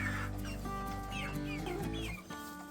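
Young roosters and hens clucking close by in a poultry yard during feeding, a steady cluster of overlapping clucks and soft calls from several birds, with no talking.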